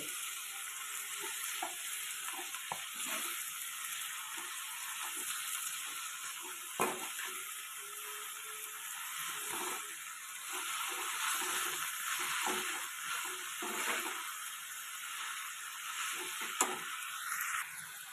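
Fenugreek leaves, brinjal and potato sizzle steadily in a pan while being stirred, a continuous bright fry with soft scraping stirs and occasional clinks, no voices.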